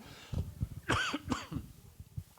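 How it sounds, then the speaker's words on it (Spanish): A couple of sharp coughs close to the mic, with a short throat-clearing sound between them, then quiet. "Ahí me perdonan la tosecita"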